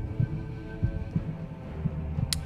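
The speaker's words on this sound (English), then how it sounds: "Freaking heartbeat, what the heck?" Steady low heartbeat thumps from The Witcher 2 video game pulse at an irregular pace under a faint ambient hum, fairly quiet, with no talking.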